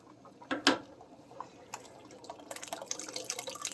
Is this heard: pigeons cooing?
no